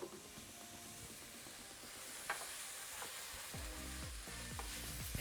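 Chorizo and green onion sautéing in a pan, a quiet, even sizzle with scattered light clicks and a tonal hum underneath, no talking.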